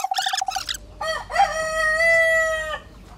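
Chickens on a small Thai farm, kept in recycled enclosures such as an old wheelbarrow. A rapid run of clucks comes first, then a rooster crows loudly and up close with a long drawn-out call.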